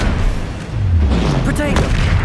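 Confringo and Bombarda spell blasts in Hogwarts Legacy, heavy booming impacts in quick succession with low rumbling tails, mixed with shouted character voices.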